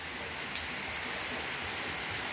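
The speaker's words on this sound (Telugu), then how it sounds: "ఇప్పుడైతే వర్షం వస్తుంది" Light drizzle falls steadily in a rural village, a soft, even patter of rain that stays faint and continuous throughout with no voices.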